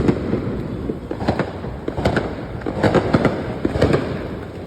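Fireworks and firecrackers bursting outside a house, a rapid irregular string of sharp cracks and pops at moderate distance, going on throughout with no talk.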